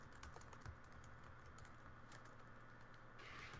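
Rapid, quiet clicking of keys on a computer keyboard patters continuously at close range, faint and uneven in rhythm.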